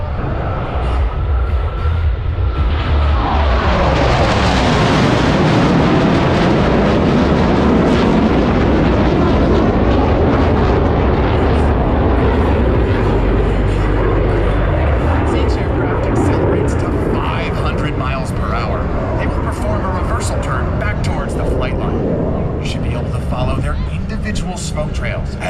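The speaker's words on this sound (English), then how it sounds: "Smoke trails as all 4 aircraft converge on center point with maximum closure and minimum separation." Blue Angels jets flying low in a brake cross maneuver at an air show in Orlando, a loud roaring jet noise building quickly and sustained as the aircraft converge overhead, with a broad rumbling wash continuing to the end.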